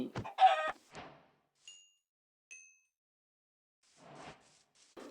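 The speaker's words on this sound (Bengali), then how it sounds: "ওহ, দৌড় দিস না মুরগি," A chicken in the video game Minecraft clucks loudly in a short burst, followed by a couple of brief high chimes and a softer cluck near the end.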